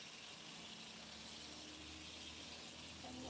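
Water pours onto freshly transplanted bitter gourd seedlings in a garden, a steady close gushing hiss with no break.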